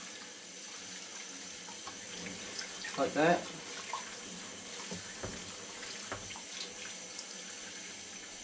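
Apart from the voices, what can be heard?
stainless steel tumbling pins agitated in water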